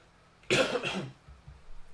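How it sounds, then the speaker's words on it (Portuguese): A single cough in a quiet room during a recorded class on stock market investing, fairly close and loud, followed by a couple of soft low thumps. "Então vai ficar essa tosse aí durante a aula."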